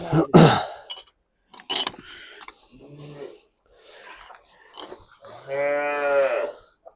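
Heifers mooing at a cattle sale, several low drawn-out moos close by with snorts and breaths between, ending in one long loud call.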